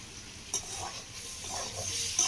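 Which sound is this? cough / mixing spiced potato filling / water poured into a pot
mixing spiced potato filling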